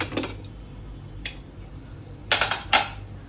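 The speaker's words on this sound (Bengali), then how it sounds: "এবারে ঢাকাটা খুলে দিচ্ছি" A cooking-pot lid is lifted off a pot of fish-head and bottle-gourd curry, giving a few short metallic clinks and clatters, one early, one mid-clip and a louder pair near the end, with no talking.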